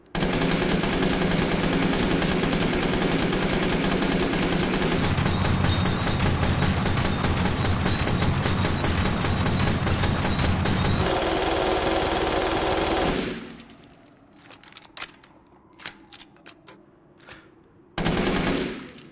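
A fully upgraded weapon in Resident Evil Village fires in long, fast continuous bursts, loud and close for about thirteen seconds, then gives way to quieter scattered clicks and thuds before a final brief burst.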